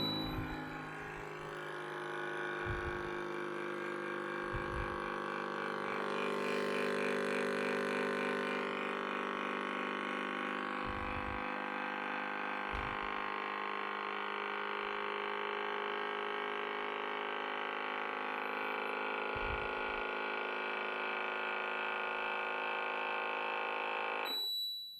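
ViDiA vacuum blender pumping air out of its jar, a steady buzzing motor hum lasting over twenty seconds with faint low thumps, stopping abruptly at the end.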